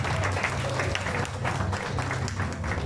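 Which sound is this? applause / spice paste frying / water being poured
applause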